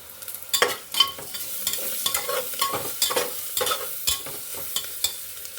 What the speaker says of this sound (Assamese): ধনিয়া গুড়ি দিলে গোন্ধটো ধুনীয়া হয়। এইখিনি লৰাই দিম।